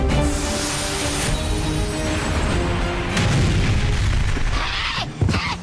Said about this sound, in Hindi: ये आक्रमण नहीं, ये धमाकों की आवाज है।